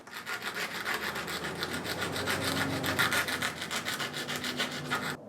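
A jeweler's saw cuts through metal channel stock by hand. Steady, rhythmic back-and-forth rasping strokes sound close and fairly loud, with no talking.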